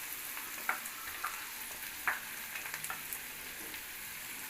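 Onions sizzle and fry in a pan with ginger garlic paste for a quail egg masala, a steady close crackle broken by sharp pops and spatters.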